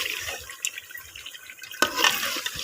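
Water splashes into a pan of potatoes cooking with fried spice masala, a short sizzling gush that swells suddenly partway through over low background clatter, with no talk.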